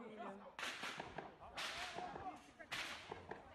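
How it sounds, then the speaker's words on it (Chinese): Gunfire in a police shootout with gangs in a crowded Rio de Janeiro slum: several sharp, loud cracking shots at irregular intervals over a noisy background of voices and bustle. "在奥运城市中，枪声四起。"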